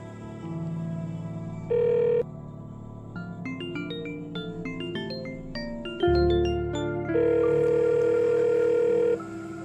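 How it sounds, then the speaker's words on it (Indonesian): A telephone ringback tone plays against a steady music bed, with short tonal bursts repeating and no one picking up; no voices. "Coba telepon Livi"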